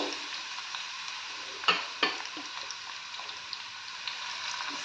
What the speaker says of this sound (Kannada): ಆನಿಯನ್ ಮತ್ತು ಟೊಮೆಟೊನ ಸ್ವಲ್ಪ ಫ್ರೈ ಮಾಡ್ಕೋಬೇಕು ಗೋಲ್ಡನ್ ಬ್ರೌನ್ ಕಲರ್ ಬರೋವರೆಗೂ ಫ್ರೈ ಮಾಡ್ಕೊಂಡ್ರೆ ಸಾಕು